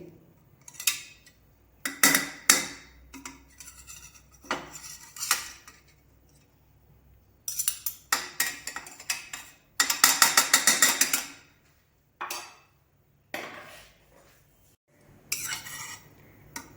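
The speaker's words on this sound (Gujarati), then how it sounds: "આપણે એ ચમચી જે નાખી છે અંદર એ કાઢી લઈએ" A metal spoon is lifted out of a pressure cooker holding cooked dal, producing scattered clinks and scraping taps against the metal pot in short irregular bursts separated by quiet gaps.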